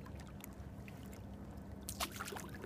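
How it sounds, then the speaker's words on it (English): Kayak paddle strokes on water during a first solo outing near Schenectady, New York: low steady wash with a few splashy dips and drips near the end, fairly faint. "My first solo kayak."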